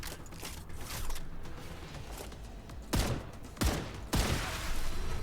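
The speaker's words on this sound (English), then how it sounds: "Changing mags" A weapon reload in the video game StarRupture: a few sharp mechanical clacks and clicks as magazines are swapped, over a steady background hum with no talking.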